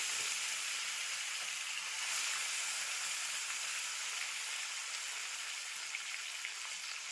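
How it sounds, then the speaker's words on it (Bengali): Fish pieces rubbed with salt and turmeric frying in oil in a wok, a continuous faint, even sizzle like light rain, without speech. "মাছগুলোকে ভালো করে ভেজে নিই।"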